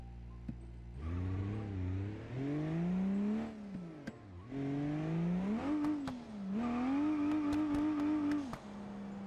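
A car in BeamNG.Drive, driven down a highway toward a drift track, revs hard and continuously. The engine note climbs, dips and climbs again through several surges, loud and close, with brief clicks near the end and no talking.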